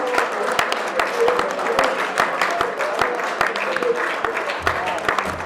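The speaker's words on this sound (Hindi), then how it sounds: "जोरदार तालियां" People at a Muslim Rashtriya Manch meeting clap loudly for Farooq bhai. Sharp individual claps stand out over a steady crowd patter, close and lively, with voices mixed in and a low hum near the end.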